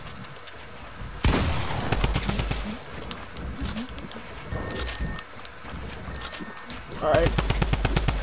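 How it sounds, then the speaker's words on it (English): Combat shotgun blasts from a Fortnite 1v1 match, several sharp, loud reports spaced a few seconds apart over continuous game noise, with a player speaking briefly. "I didn't know we could use a combat shotgun"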